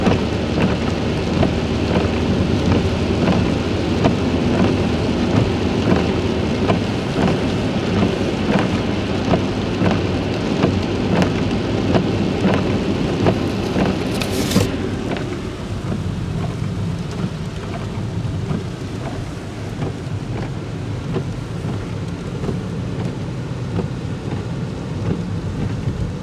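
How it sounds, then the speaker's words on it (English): Steady rain pours outside along a rural county road near Seneca Rocks, with rumbling thunder from a storm, loud and continuous, easing slightly partway through. "you can't walk when it's raining without getting wet"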